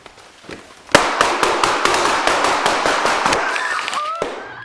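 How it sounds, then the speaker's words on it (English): A rapid volley of sharp police-incident gunshots, loud and close, cracking one after another for several seconds, with a few faint voices underneath. "All three were struck by gunfire."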